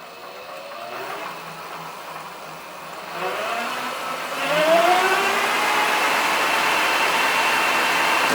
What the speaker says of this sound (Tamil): இப்போ நம்ம த்ராட்டில் கொடுத்து நம்மளோட வீல் வந்து எந்த அளவுக்கு ஃபாஸ்ட்டாக சுற்றுது அப்படின்றத பார்க்கலாம்.